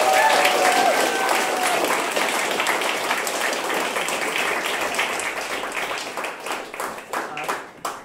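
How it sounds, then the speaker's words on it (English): A studio audience at a live comedy tabletop-adventure show applauds steadily, a dense wash of clapping that stays strong, then thins and tapers toward the end. "A big round of applause for our adventurers!"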